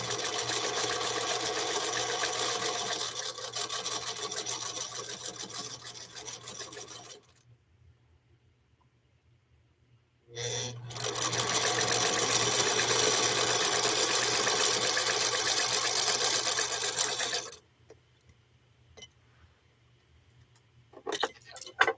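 A Singer Featherweight sewing machine stitches fabric in two long, loud, steady runs of rapid needle clatter, with a pause of near silence between them and a short final burst at the end.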